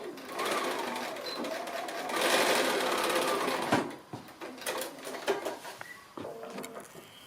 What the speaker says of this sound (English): we'll stitch across and reverse back again.